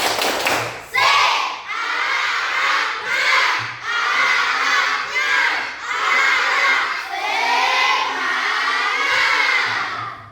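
Schoolchildren in an Indonesian classroom shout a spirited clapping chant together, loud rhythmic bursts of massed young voices punctuated by claps, continuing for about ten seconds.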